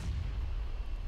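A grenade detonating in the PUBG battle royale game, a single brief low boom with rumbling bass, dense and loud.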